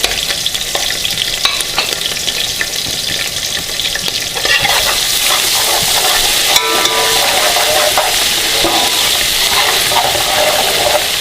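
Garlic and ginger paste sizzles and fries in hot oil with green cardamom pods, stirred steadily throughout, the frying growing louder and denser about halfway through, with no voices.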